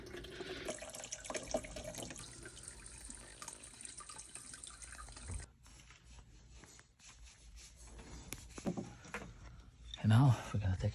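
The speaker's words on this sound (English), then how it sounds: "So your objective is to release the water until it's go down to the level." Water drains from a water heater relief valve with a continuous hissing trickle like a running tap, quieter in the middle, then splashing louder near the end as someone speaks.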